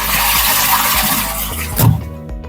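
Water hammer in household water pipes after the supply is shut off: continuous rushing water noise ending in a sudden knocking thud near the end.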